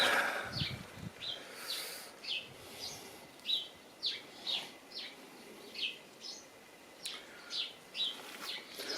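Short bird chirps repeat at a steady pace over a soft outdoor hiss, a few birds feeding on seed in a garden calling close by with brief gaps between each tweet, on a cold January day.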